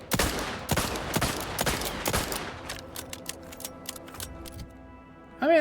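Explosive bullets going off in The Outer Worlds 2 video game, a rapid volley of loud sharp cracks and blasts followed by lighter scattered ticking impacts, ending in a brief tonal game sound.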